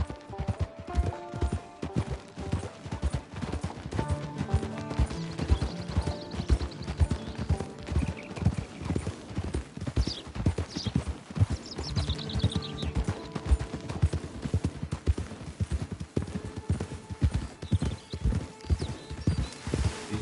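Horse hooves clip-clop steadily in Red Dead Redemption 2 Online, a brisk rhythmic trot of many close, loud hoofbeats running throughout, with an occasional whinny and game music and effects underneath.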